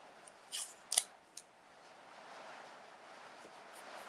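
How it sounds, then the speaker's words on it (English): Scissors snip through tape during a craft project, a few quick crisp cuts up close followed by quiet rustling. "cutting off a little bit more tape than I need to cut off"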